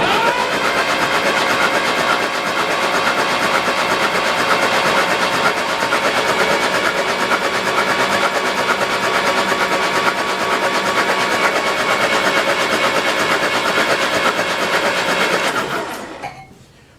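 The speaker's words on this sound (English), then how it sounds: "When you heard that engine start to slow down or change the RPM, that's when it finally got oil pressure" A 1953 Jeep CJ3B, revived after 30 years unused, runs with a loud, steady engine drone and no talk, the running sound holding unchanged before dying away abruptly near the end.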